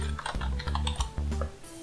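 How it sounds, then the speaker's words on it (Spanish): A username typed on a computer keyboard gives a short burst of quick, close, moderately quiet key clicks in an uneven rhythm, with no voices. "Escribimos el usuario que creamos que hemos creado ya anteriormente"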